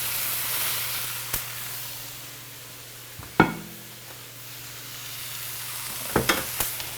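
Onions, peas, peppers, cauliflower and broccoli sizzle softly in a hot pan, a steady faint frying hiss broken by a few sharp clicks and scrapes of stirring.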